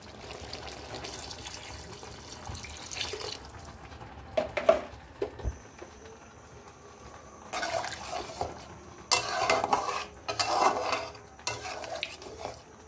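Water goes into a cooking pan of stir-fried bottle gourd, heard as splashy, pattering bursts and clatter of pan and utensil in several uneven stretches, moderately close, without speech.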